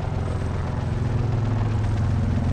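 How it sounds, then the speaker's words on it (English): Helicopters in the Call of Duty Black Ops 4 Blackout battle royale game give off a loud, steady rotor drone with a deep throbbing low end, continuous throughout and close by. "every squad has a heli"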